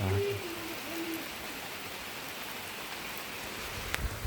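Steady, soft rain falls outdoors in an even hiss that stays faint and constant, with brief distant bird calls near the start.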